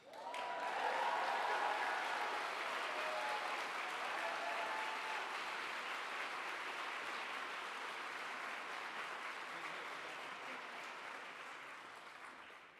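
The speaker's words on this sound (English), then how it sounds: "I'd like to welcome him with a particularly rousing round of applause" Sustained, rousing applause from a dinner audience at a Fulbright awards event, welcoming a new U.S. citizen; dense clapping fills the room steadily, easing slightly toward the end, with a few faint voices underneath.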